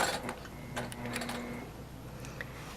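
A sewing machine runs through a short back-stitching pass with quick mechanical ticks and a brief motor whir, then several seconds of lighter clicking and handling noise, heard close and without any voice.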